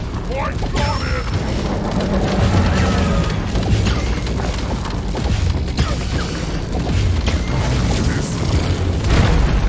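Explosions in the co-op shooter Deep Rock Galactic during a fight against Dreadnought bugs in an arena, a dense, loud run of booms and crashing blasts with mechanical clatter, continuous throughout amid gunfire-like chaos.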